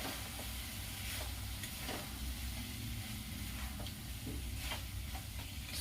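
Fried potatoes and eggplant sizzling in masala in a pan over a low flame: a faint, steady frying hiss with a few soft stirring scrapes, heard close with no talking.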